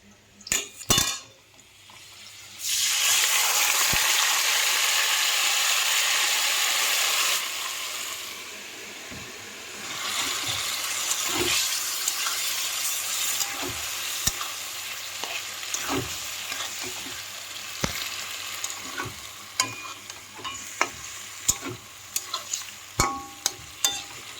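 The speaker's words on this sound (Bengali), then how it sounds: "তো ফ্রেন্ডস, দিয়ে দিলাম তেজপাতা আর" Bay leaves dropped into hot oil in a pan burst into a loud sizzle that settles into steady frying, followed by a long stretch of sharp spoon and pan clinks and scrapes, close by with no speech.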